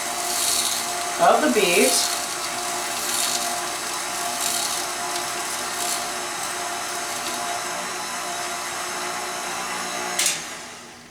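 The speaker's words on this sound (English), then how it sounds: "Now, the peeler is taking the peel off the outside." A KitchenAid stand mixer with its spiralizer peeler attachment strips the skin from a beet, a steady low mechanical whir and scraping running throughout, with a person speaking briefly over it.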